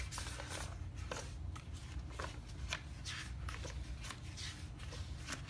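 Pages of a sticker book being flipped, a run of quick papery riffles and light crinkles close by, steady and fairly soft throughout with no speech.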